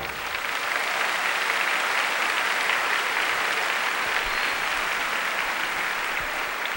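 A church congregation applauds after a scripture reading at Mass, a broad, even wash of many hands clapping at a distance, steady and unbroken for several seconds with no talk.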